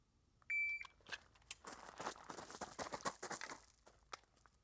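A shot timer gives a single short electronic beep during USPSA pistol practice, followed by a rapid burst of sharp gunshots and clatter, heard from a moderate distance with no speech.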